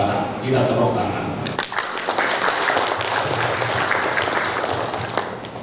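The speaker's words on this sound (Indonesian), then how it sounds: "Kita tepuk tangan." Audience applauding at a college graduation ceremony, a dense, sustained wash of clapping that swells in after a spoken line and fills the hall steadily to the end.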